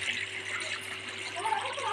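Tap water runs while raw chicken is rinsed in a village kitchen, a steady close splashing stream with faint background noise.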